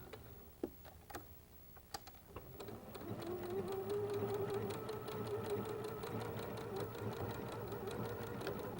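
A sewing machine stitches a quilted pinwheel heart block, a few separate ticks giving way to a steady, rapid mechanical whir of close stitching.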